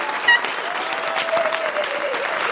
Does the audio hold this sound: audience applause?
yes